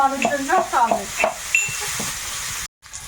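Potatoes frying in oil in an old wok, a close, steady sizzle with stirring scrapes and a few clinks in the first half, then quieter frying with a brief dropout near the end.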